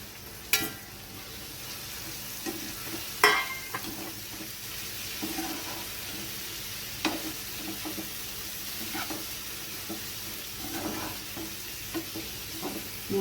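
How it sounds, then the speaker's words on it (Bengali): Fried potatoes and soybean chunks are stirred into a sizzling, oil-glossed spice paste in a pan, producing a low steady sizzle broken by occasional scraping clacks and knocks of the spoon. "এবার আমি দিয়ে দিচ্ছি ভেজে রাখা আলু আর সয়াবিনটা।"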